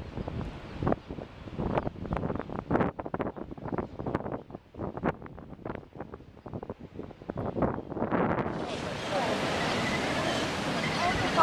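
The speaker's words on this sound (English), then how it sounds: "But you can see the surf" Ocean surf rolling in at Black Beach near Auckland, heard as a steady, loud broadband roar that swells up in the last few seconds after a stretch of talking and wind buffeting.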